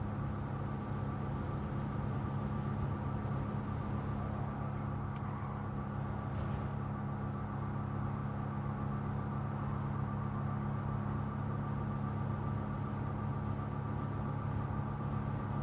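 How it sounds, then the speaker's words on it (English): A car engine in the racing game Gran Turismo 7 drones as a steady, continuous low hum that holds an even pitch throughout with no revving. "I do hear an engine in this."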